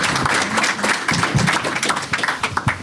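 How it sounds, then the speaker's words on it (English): A room applauds panelists at a conference session, a dense burst of nearby clapping with some sharp individual claps and thumps. "Please give them a round of applause."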